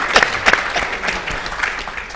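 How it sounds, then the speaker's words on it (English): A short burst of applause from a small audience, scattered claps fading quickly over a couple of seconds. "Can we give him a round of applause?"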